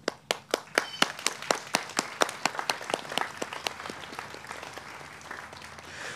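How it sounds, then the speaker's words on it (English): A concert audience applauds music directors, starting as a string of distinct claps from a small group and thinning out over about six seconds. "I would like to give a round of applause to those inspiring directors"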